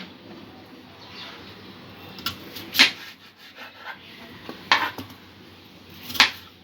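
A knife slicing a large onion and tomatoes, a few sharp clicks of the blade striking the board spaced seconds apart, faint rubbing cuts between them, quiet and close.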